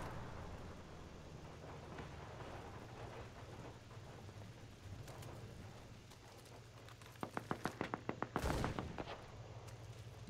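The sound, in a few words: gunfire in the video game Enlisted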